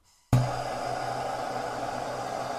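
A heat tool, such as a hot-air gun or torch, switches on abruptly and runs with a steady loud blowing roar while it heats a screwdriver tip for plastic welding a gas tank.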